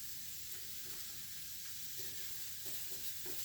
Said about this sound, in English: So now I'm going to add the garlic and the ginger.